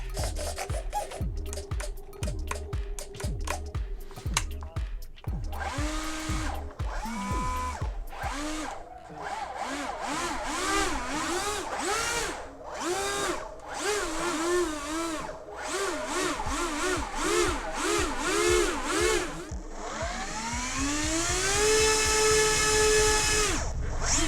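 Motors of an FPV quadcopter, a Defiant Renegade, whine and surge through throttle tests, rising and falling buzzy pitches in rapid bursts, then a long climbing howl near the end, close and loud.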